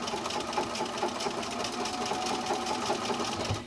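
A sewing machine runs in a steady continuous stitching drone, stitching quilt binding and pivoting around a corner, close and even throughout with no pauses.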